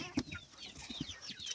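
Chickens on a farm, older laying hens among them, clucking in short scattered calls with faint higher bird chirps over a low, steady outdoor background.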